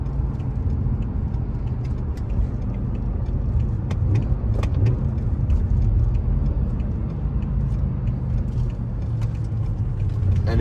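Inside a BMW E60 M5 with a six-speed manual, a steady low engine and road drone fills the cabin at cruise, with faint light ticks and rattles on top and no talking.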